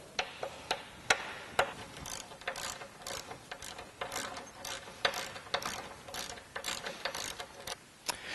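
Ratchet with a Torx T55 bit backing out the factory frame bolts on a Jeep Wrangler front bumper, rapid clicking in uneven bursts of close, sharp ticks with short pauses between strokes.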